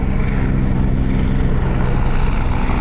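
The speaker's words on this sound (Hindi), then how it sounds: "और अब आप इन हेलीकॉप्टर्स को देखें" Military helicopters, including twin-engine Apaches flying five together, pass over Hindon air base during an Indian Air Force Day display, making a steady, loud, unbroken rotor and engine rumble with no talking.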